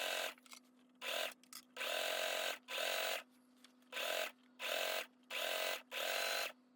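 A sewing machine straight-stitches a shirt hem in a string of short bursts separated by brief pauses, each run a steady close mechanical whir.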